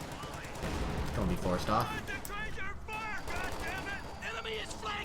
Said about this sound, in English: Pioneers being picked up by LMGs.